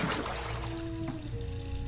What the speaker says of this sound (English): Pour enough clean water into the empty bucket to submerge the object